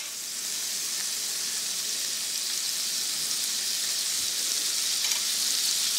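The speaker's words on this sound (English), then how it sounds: "we're gonna sizzle them up in this butter" Nathan's hot dogs frying in butter in a pan, a steady crackling sizzle that builds slightly and stays continuous, close and fairly quiet with no talking.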